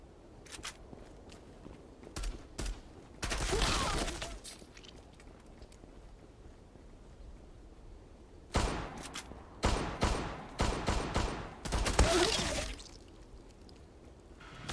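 Sniper rifle shots in the online shooter Zula, loud sharp cracks in two bursts, a single shot early and then a quick run of several more later, with footsteps and game noise between them.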